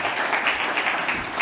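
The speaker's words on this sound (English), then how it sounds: "A little clap for Ryan, thank you very much." An audience at a business CEO summit claps together in a brief burst of applause, steady and moderately loud, with no voices over it.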